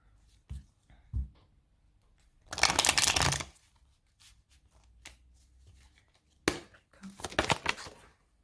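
Tarot cards from the Osho Zen deck being shuffled by hand, with two long riffling bursts separated by a few soft taps and card handling sounds, close and clear with no talking.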